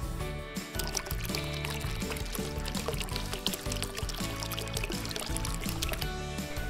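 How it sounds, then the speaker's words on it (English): Resin hardener is poured into a mixing container for making keychains, a soft liquid pour running under prominent background music. "The first step is to grab your hardener and pour one part into your mixing container."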